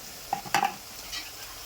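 Onions and chillies frying in a pan for a chicken liver curry, a soft continuous sizzle with a few quick stirring clinks near the start.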